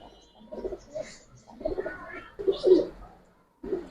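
Pigeons, high-flyer and Giribaz breeds, coo close by in a series of soft throaty phrases with short pauses between them.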